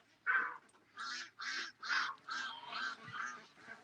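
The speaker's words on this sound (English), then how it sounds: "Well, the ducks are leaving, I think." Ducks calling as they leave in cold outdoor conditions, a run of about seven nasal honking calls in quick succession, moderately distant and clear against a quiet background.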